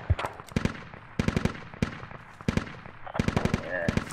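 Enemy machine gun fire in the military shooter Squad during a boat assault, rattling in several repeated bursts of rapid shots, loud and fairly close, with voices talking between volleys.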